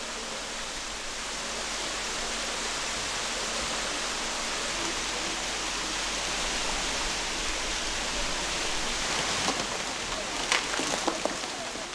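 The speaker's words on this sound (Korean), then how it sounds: "9굽이 기암 절벽을 50m나 돌아 떨어진다는 폭포에 겨울이 왔다" Gugok Falls near Gangchon in Chuncheon, a waterfall dropping about 50 m in winter down rock cliffs, gives a steady, broad rushing roar throughout, with a few faint brief clicks near the end.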